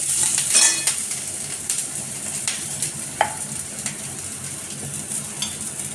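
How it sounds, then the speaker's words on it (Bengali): Spinach cooks on low heat with a garlic tempering, a steady close sizzle broken by scattered scrapes and clinks of a utensil against the pan, no voices. "পালং শাক একদম সিমটি রান্না করছি এটাতে রসুন ফোড়ন দিয়েছি"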